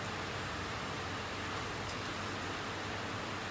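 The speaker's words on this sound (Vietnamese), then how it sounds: "trời đang mưa cho nên hơi ồn một xíu" Steady rain falls outdoors in a garden during the rainy season, a constant hiss with no break, alone and without voices.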